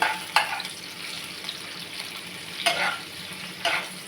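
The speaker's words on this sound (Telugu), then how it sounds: "ఒక ఉల్లిగడ్డ కోసుకున్న పెద్ద ఉల్లిగడ్డ ఉల్లిగడ్డ ముక్కలు ఒకసారి కలపాలి" Onion pieces are stirred into marinated chicken frying in a pan, producing a steady sizzle with a few louder scraping stirs, close up and with no voices.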